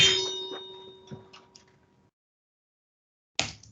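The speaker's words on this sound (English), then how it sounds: "make the punch a little bit early and then make the ring a little bit later" Layered punch and ring sound effects: a sharp impact with a metallic ringing tail that decays over about two seconds, followed by silence, then a second abrupt hit near the end.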